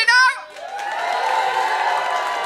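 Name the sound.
audience cheering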